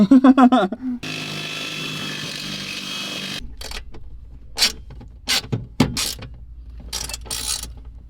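A steady mechanical whir of drilling into the metal of a $300,000 car runs for a couple of seconds, followed by scattered clanks, taps and handling noises of tools on metal.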